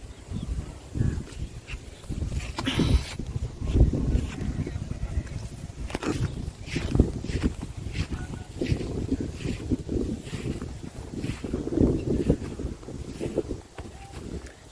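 Wind blows continuously across open green farm fields, rumbling and buffeting the microphone in uneven gusts throughout.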